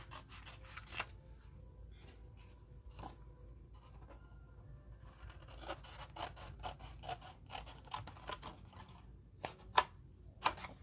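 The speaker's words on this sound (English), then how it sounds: "I'm going to go ahead and cut these two off as well." Scissors snip through paper card pieces on a craft card base, a run of quiet, crisp cuts and rustles close to the microphone, clustering faster toward the end.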